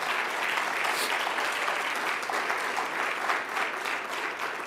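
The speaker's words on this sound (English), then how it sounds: "Please give Patty Flum a round of applause." An audience at a 50th anniversary celebration claps steadily for several seconds, a dense, even patter of many hands at moderate distance with no voices over it.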